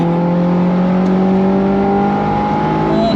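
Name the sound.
Honda S2000 engine revving into VTEC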